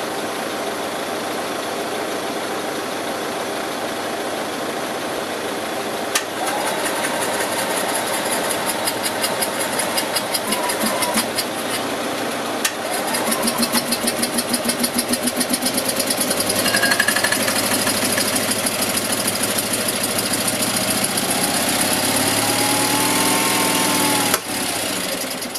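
An Invacar engine left abandoned in a field for 14 years chatters into life and keeps running, a loud, buzzy, rapid mechanical rattle with a few sharp clicks and one rev lift partway through.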